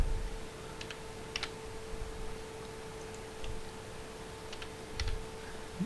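A few scattered key presses on a computer keyboard during C programming, heard as faint, sparse clicks over a steady electrical hum.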